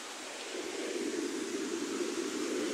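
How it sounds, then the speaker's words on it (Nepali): A swollen Kharini river roars after heavy rain, a loud, steady rushing wash of water that holds evenly throughout with no voices. "खरिनी खोला हेर्नुहोस् यस्तो बौलिरहेको छ"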